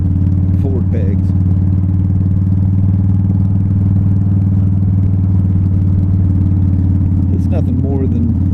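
A Harley-Davidson FXDL Low Rider hums along at a steady cruising pace during a test ride, its engine drone loud and constant, while a rider talks over it at the start and end.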